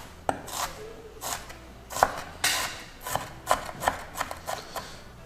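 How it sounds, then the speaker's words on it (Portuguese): An onion being chopped with a knife on a cutting board, a dozen or so crisp, close knocks in an uneven rhythm, each a sharp tap against a quiet background. "Enquanto isso, eu vou picar a cebola"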